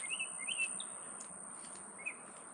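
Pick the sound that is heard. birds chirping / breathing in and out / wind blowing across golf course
birds chirping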